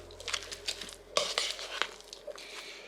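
About a cup of sour cream being stirred into a dish in a bowl with a spoon, producing soft scraping and light clinks against the bowl in a quiet kitchen, close and faint, with no talking.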